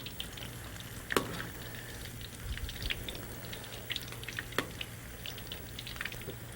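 Savouries frying in hot oil in a pan, turned over now and then, a steady soft sizzle with scattered sharp pops and light clicks as they are moved.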